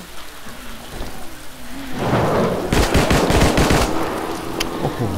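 Rapid gunfire against zombies in the survival shooter 7554, a dense burst of crackling shots that swells in the second half, loud and close over a steady rumbling background, with no talking.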